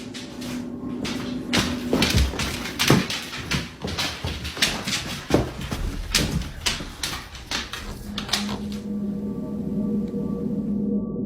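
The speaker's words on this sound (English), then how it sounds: "the source of these knocks is nowhere to be found" Knocks land on a house door from an unseen source, a series of sharp, irregular thuds in quick succession, fairly close, before the sound settles into a quieter room hum.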